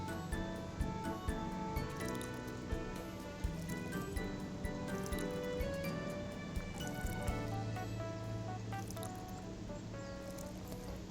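Squishy, dripping water effects from plants being watered in the video game Snacko, repeating in quick bursts over a steady, busy game music backdrop.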